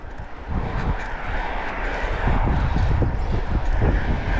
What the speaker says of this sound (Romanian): M-a rupt vântul ăsta din față.